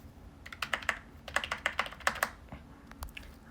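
Rapid bursts of computer keyboard clacking, clustered strokes coming in quick runs with short pauses, fairly close and moderately loud over a low steady background hum, no voices.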